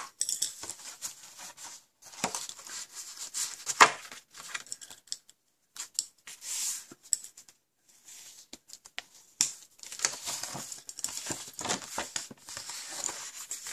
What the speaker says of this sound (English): So we're just going to fold and burnish our score lines now.